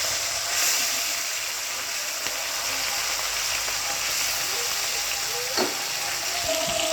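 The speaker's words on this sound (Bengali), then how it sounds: "ঠিক আছে, চলো এটা ভাজা হতে থাকে।" Fish pieces fry in hot oil with a steady, close, bright sizzling hiss, broken by a few faint clicks and pops.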